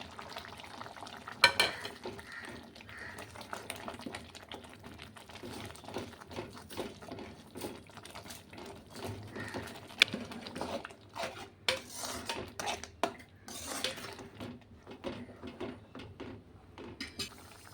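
Masala going into a pan of prawn gravy and being stirred, with repeated scrapes and clinks of a metal spoon against the pot, a soft sizzle underneath, and one sharper knock partway through.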